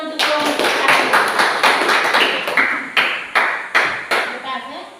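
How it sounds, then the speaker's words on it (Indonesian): Classroom applause for a student discussion group, a burst of hand claps with several sharp accented claps rising out of it, fairly close and lasting throughout, with voices mixed in. "Beri tepuk tangan untuk kelompok satu."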